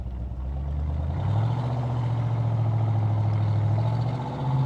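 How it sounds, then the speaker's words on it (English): A 1965 Chevrolet Corvette with a manual stick shift, its engine droning steadily while driving, a low rumbling tone that rises slightly in pitch and holds under cabin noise, with no talk. "Just the sound of the engine."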